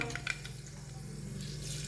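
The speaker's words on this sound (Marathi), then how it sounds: "फोडणी घालूया" Steady sizzling and crackling of spices frying in hot oil, close and continuous, with a few sharp pops near the start.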